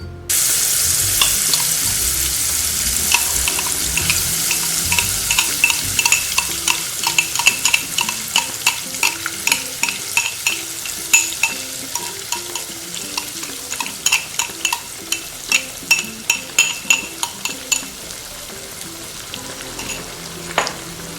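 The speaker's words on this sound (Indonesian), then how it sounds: "Aduk-aduk." Beef gulai with potatoes being stirred in a pan, a continuous sizzle and bubble overlaid by repeated rhythmic scraping strokes of a utensil that grow more regular toward the end.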